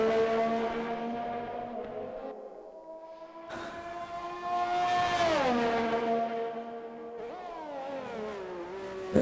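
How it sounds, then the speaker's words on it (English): Ferrari race car engine in an F1 racing video game at the Azerbaijan circuit, a loud sustained high-pitched whine that rises and falls with gear shifts, with other cars roaring past nearby and no talk. "Looks like another car's coming out of the pits, the other Ferrari, so Nat Dog's leaving the pit lane now."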